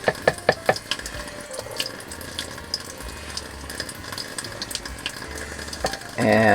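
Water runs over the back of a knife while it is rinsed at a kitchen tap, a steady close splashing hiss with a few sharp clinks early on and a louder gush near the end.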